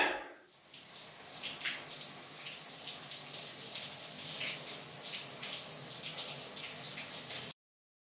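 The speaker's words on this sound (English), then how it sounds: "Shower." Shower water running in a steady, continuous hiss, close and fairly loud for about seven seconds before cutting off abruptly, with no voices.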